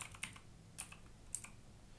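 A computer keyboard is used to type a search term, producing a few light, separate key taps about half a second apart that sound quiet and close.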